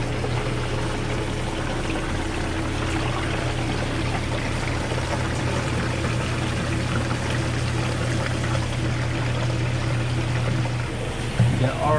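Washing machine on a test cycle pumping water out through a Filtrol 160 lint trap filter, a steady rushing, pouring flow with a low pump hum, continuous and fairly loud, ending in a few knocks.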